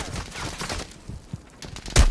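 Gunfire during a Warzone 2.0 match, a few scattered shots followed by a louder, sharper burst near the end, with faint background game noise.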